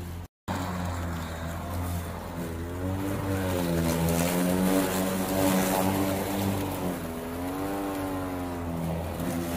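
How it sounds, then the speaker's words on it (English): A lawn mower runs nearby on a home lawn, a steady droning motor whose pitch rises and falls as it moves, loud and continuous after a brief gap at the start. "I just wanted to give you a picture of my son mowing the lawn."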